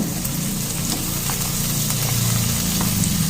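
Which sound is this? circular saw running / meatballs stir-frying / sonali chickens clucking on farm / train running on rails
meatballs stir-frying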